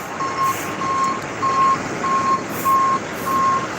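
A tow truck's reversing alarm sounds six evenly spaced, loud, high beeps over a steady low engine rumble.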